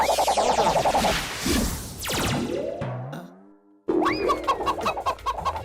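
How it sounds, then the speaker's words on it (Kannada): Cartoon chicken from an animated episode clucks in bursts, mixed with boing-like sweeps and comic sound effects, with a short near-silent gap before the clucking returns loudly. "ಈ ಕೋಳಿ ಜಾನು ಹೆಲ್ಪ್ ಮಾಡು ಅಂತ ಕೂಗ್ತಾ ಇದೆಯಲ್ಲೋ"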